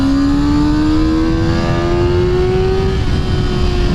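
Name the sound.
sport motorcycle accelerating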